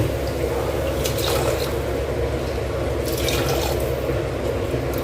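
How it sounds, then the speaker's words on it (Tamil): Water pours steadily into a cooking pot while making potato bun biryani, a loud, continuous close-up splashing stream that runs for the whole stretch with a few brighter splashes. "ரெண்டே கால அளவு தண்ணி விடுறேன்"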